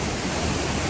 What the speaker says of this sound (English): Waterfall number 2.